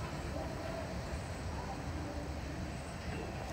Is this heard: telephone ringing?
no